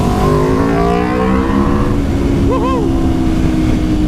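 Sport motorcycle engine, a BMW S1000RR or Aprilia RSV4 1100 Factory, revving loudly with rising and falling pitch sweeps, close by, with a steady engine drone underneath.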